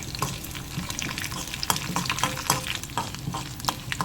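Urad dal and dry red chillies fry in hot oil for a tempering, giving a close, continuous sizzle broken by frequent scraping stirs.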